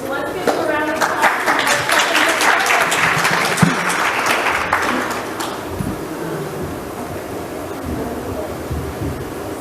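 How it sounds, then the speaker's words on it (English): An audience at a talk on resources for adults with complex neurodevelopmental disorders gives a round of applause, dense clapping for about five seconds that thins and fades into room noise. "So let's give a round of applause."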